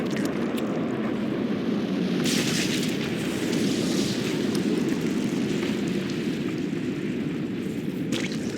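A nuclear missile detonation in StarCraft II: Heart of the Swarm, a loud, continuous roaring rumble that holds steady for several seconds with no talking.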